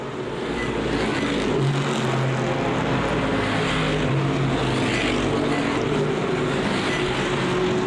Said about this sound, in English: The final 10 laps of the race with Thompson leading Hopkins, Reidner, and Kirby.